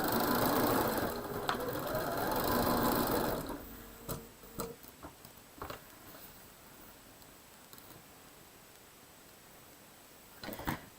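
A sewing machine stitches a quilt seam in a fast, steady mechanical whir for a few seconds, then stops, leaving scattered light clicks and taps in a quiet room.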